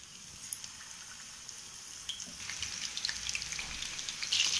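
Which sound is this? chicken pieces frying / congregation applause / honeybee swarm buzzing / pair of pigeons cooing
chicken pieces frying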